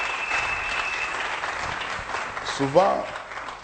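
A church congregation applauds for the king during a sermon, steady sustained clapping from a crowd with a voice speaking over it.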